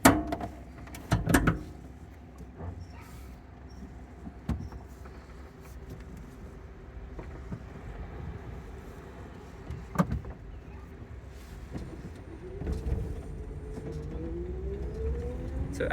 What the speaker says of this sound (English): You could hear a slight motor one as the motor spins, and you could hear somewhat of a pump behind us